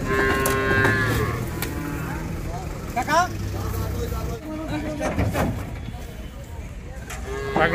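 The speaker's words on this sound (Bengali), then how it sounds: "পাগলা গরু খেপছে" Agitated cattle at a busy village market where cows are unloaded from a truck, with loud repeated moos and bellows rising over constant crowd chatter and vehicle noise, close by.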